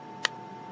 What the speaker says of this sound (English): There is a audible click, and you can feel that in the trigger.